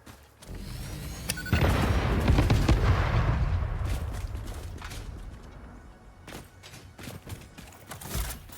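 An explosive detonates in the game Satisfactory, a heavy boom with a long rumbling roar that slowly dies away, followed by scattered sharp cracks and thuds of falling debris.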